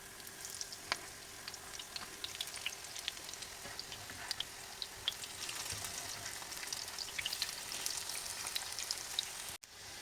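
Steady crackling sizzle of potato pancakes with crab sticks frying in hot oil in a pan, with scattered pops and spits throughout, close up and continuous.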